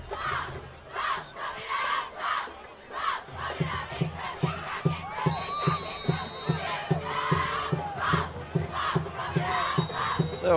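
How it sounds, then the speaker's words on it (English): Youth cheerleaders from two schools trade rhythmic chants in a cheer-off at a high school football game, loud group shouting in repeated bursts over a busy stadium crowd. "Little LCA and Tiger cheerleaders in a little cheer off down here, entertaining the fans."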